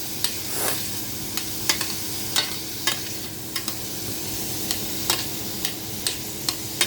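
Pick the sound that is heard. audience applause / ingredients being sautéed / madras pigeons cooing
ingredients being sautéed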